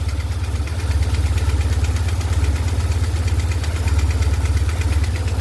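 A BMW R1150GS motorcycle engine idles close up with a steady low throbbing beat and a rhythmic mechanical knocking tick running through it.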